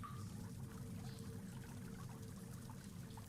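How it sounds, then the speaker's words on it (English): Steady running water in a fantasy tabletop roleplaying game, a continuous broadband wash like pouring or trickling water that holds an even level throughout without pause. "you can hear quite a bit of running water"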